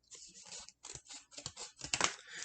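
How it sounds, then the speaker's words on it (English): Scissors cutting a folded sheet of paper in half, a quiet close series of crisp snipping and slicing strokes in uneven rhythm, no talk. "we can actually cut this roughly in half"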